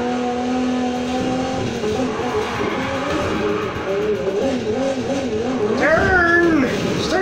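An Aston Martin DB11 Volante (2019) drifts in Need for Speed Heat, its engine droning steadily with rising and falling revs before tires squeal near the end, loud and continuous.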